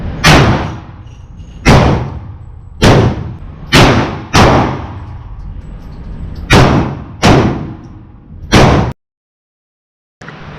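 Springfield Hellcat Pro and Canik TP9 Elite SC pistols fired outdoors, eight loud sharp shots spaced about a second apart, each with a short decaying echo, then silence.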